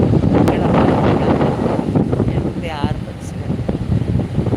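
Steady sea wind on a rocky beach in Pondicherry buffets the microphone in a constant rushing roar, with a person speaking underneath.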